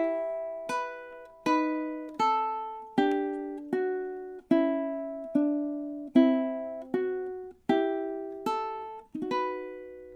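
Ukulele plays Carol of the Bells, measures 6 to 9: clean, close plucked notes in a steady, repeating pattern of about a dozen even strikes, each ringing briefly before the next, alone with no talking.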